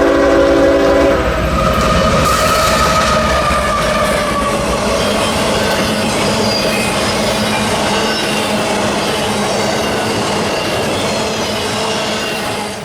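A freight train rumbles past close by along the lakeshore in North East, Pennsylvania, loud and steady, with a horn blast at the start and metallic wheel squeal over the rolling clatter.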